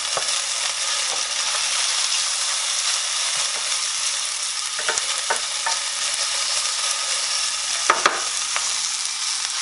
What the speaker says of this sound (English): we've got our onions starting to cook down, our onions and peppers